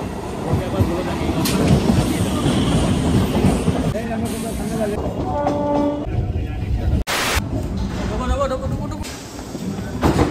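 A Shantipur local train at a station, its rumbling wheels and clattering carriages sounding loud and close, with a brief horn-like tone and squeal partway through while people talk over the noise.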